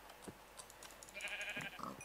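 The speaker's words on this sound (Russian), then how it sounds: "Я слышу, блеет овца." A sheep in the video game Minecraft bleats once in a faint, short wavering cry over quiet game ambience, with a few soft thuds around it.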